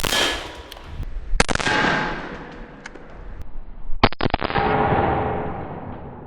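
.44 Magnum revolver fired at a pork leg: two loud, sharp blasts about three seconds apart, each trailing off in a long rumbling echo.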